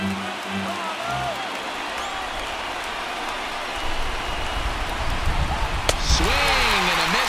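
A stadium crowd of over 39,000 in the MLB The Show 19 baseball game, Red Sox at Orioles, rises to its feet with a steady roar that swells louder, while a commentator's voice talks over it.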